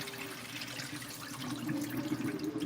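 Water runs steadily into a pot of rice during the second rinse, a continuous close splashing and trickling that swells a little louder toward the end.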